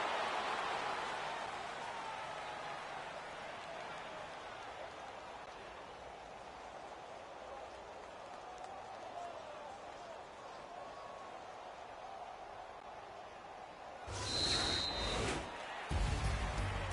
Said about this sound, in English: Well, Charles, the forecast called for rain throughout the entire game, and we got rain